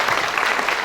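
Audience at a Hindi poetry gathering clapping: a brief, dense burst of crowd applause, loud and continuous, with no pauses.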